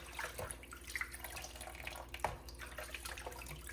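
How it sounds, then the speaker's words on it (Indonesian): Thai basil leaves being rinsed under running tap water for the third time in a kitchen sink, a steady close splashing stream with small drips and clinks, no voices. "Ini sudah cucian ketiga nih teman-teman."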